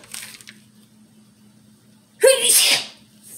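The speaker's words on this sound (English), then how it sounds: "Sneeze." One loud, close sneeze bursts out after a quiet moment, followed by a brief breathy tail.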